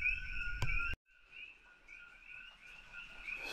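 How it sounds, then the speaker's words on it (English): A chorus of frogs croaks and trills after rain, a dense pulsing call that continues steadily; a sharp tonal chirp and a brief burst open the clip before it drops to the frog chorus alone. "So I'm hoping you guys can hear me over the frogs."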